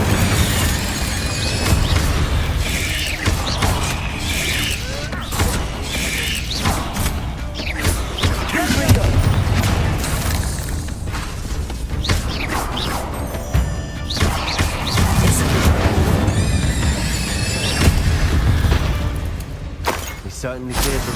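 Fire and blast spells crash and boom repeatedly in Hogwarts Legacy combat, dense bursts and impacts layered over game music and character voices throughout.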